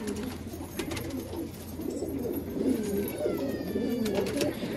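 Domestic pigeons in a loft, including a red-banded khaira male, coo in repeated low throaty rolls at close range, layered over a soft background murmur.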